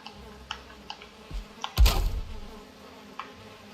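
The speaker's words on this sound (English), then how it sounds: "This is the luckiest I've ever been with finding bees." Bees in the video game Valheim hum faintly under a scattering of sharp ticks and clicks, with one louder thump partway through.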